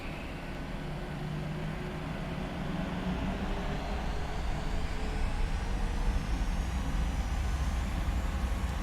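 A Boeing 737-700 in the PMDG flight simulator rolls for takeoff, a broad steady engine roar that slowly swells and rises in pitch over several seconds, with no talk.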